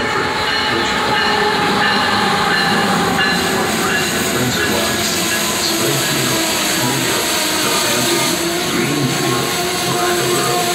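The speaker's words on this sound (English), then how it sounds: "Now arriving on Track 1 is the Amtrak 1011 Eastbound Train Number 54 to St. Albans" Loud, continuous rumble and roar of an Amtrak passenger train with a P42 locomotive arriving close by at Metropark station, with steady rail noise and hiss throughout.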